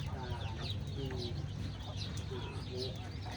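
Ducks kept for sale on a farm give faint, scattered quacks and clucks at a distance over a constant low hum of background noise.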